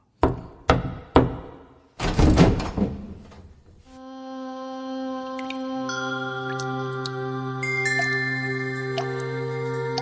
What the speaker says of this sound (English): He walked up to Draupadi's room and knocked on the door.